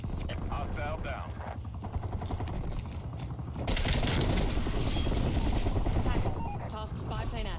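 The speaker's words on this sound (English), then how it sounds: "that attack helicopter and that spy plane up in the air, they're both mine" Attack helicopter in a military shooter video game: a continuous, rapid chopping rotor thump that swells louder partway through, mixed with distant gunfire and other battle noise.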